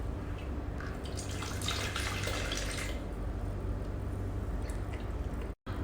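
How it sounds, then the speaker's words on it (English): Water trickles and splashes as it is poured into the tank of a multifunction slimming machine, a close, soft, continuous pour that swells briefly and then settles into a quieter flow, with no voices. "Now we inject water."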